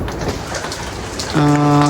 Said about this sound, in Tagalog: Ayan na, ulan na.